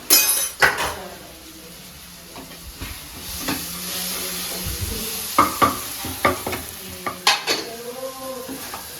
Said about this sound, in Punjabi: ਸਾਡਾ ਤੜਕਾ ਭੁੱਜ ਕੇ ਹੋ ਗਿਆ ਤਿਆਰ